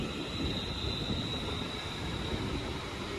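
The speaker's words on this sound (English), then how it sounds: "the 956 on the Northwestern Railway Service from Crewe to London Euston is leaving" A Northwestern Railway passenger service from Crewe to London Euston departs Tamworth station, giving a steady, fairly loud rumble of the moving train with a sustained high whine throughout and no talk.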